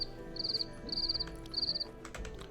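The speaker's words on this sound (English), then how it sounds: "The only crickets I want to hear are the crickets that are in this game." Cricket chirps from Black Desert Online, three evenly spaced high trilling bursts standing clearly above a low in-game ambient bed, with no talking.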